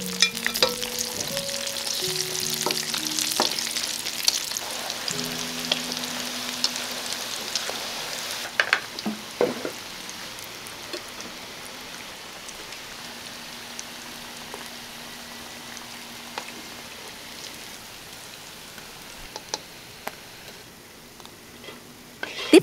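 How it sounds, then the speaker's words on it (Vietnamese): Chicken thighs crackling in hot oil during a second deep-fry, a dense steady sizzle with scattered pops that eases slightly over time, close and continuous with no talking. "mình cho vào chiên ngay lần 2 để gà được giòn hơn nha"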